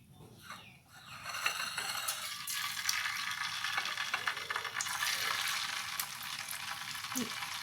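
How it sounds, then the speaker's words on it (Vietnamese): Dense, crackling sizzle of tofu frying in plenty of hot oil in a pan, steady and close, rising after a quiet start, with faint clinks of utensils. "Các bạn cho dầu vô chiên đậu hũ thì các bạn cho hơi nhiều xíu nha"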